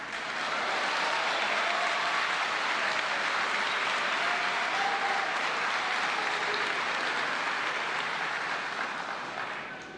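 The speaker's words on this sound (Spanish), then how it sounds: "Por si no se escuchó por los aplausos" Sustained, dense applause fills the Argentine National Congress chamber during the 2024 opening of legislative sessions, loud and steady throughout with no talk over it.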